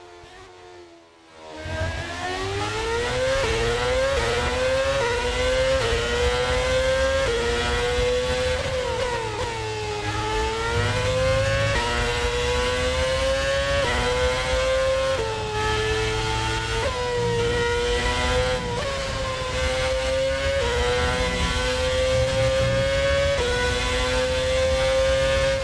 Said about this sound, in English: Now, here with the Red Bull car, I actually put in the Porsche engine.